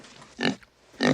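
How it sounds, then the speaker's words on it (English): A pig enters through a door in a film scene, giving two loud grunting oinks about half a second apart, with faint rustling between them and no talk. "And we hear some strange noises at the door and in comes a pig."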